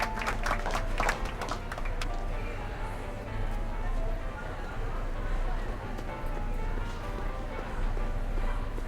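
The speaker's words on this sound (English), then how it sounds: "How about a round of applause just for the heck of it?" A small audience claps loosely with some faint voices mixed in, the clapping sharpest at the start and then thinning into a low, murmuring background.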